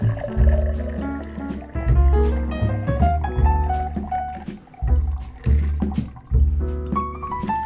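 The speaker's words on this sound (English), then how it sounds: "you're gonna wanna take just a little bit of a strainer to keep all the peel out" A shaken margarita poured through a small strainer to hold back lime peel, with close, gurgling glugs of liquid arriving in several rising bursts, each pour brightening in pitch as the glass fills.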